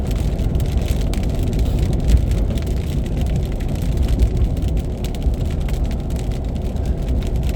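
Steady heavy rain drums on a car, a dense continuous patter with low rumble, loud and close, no voices.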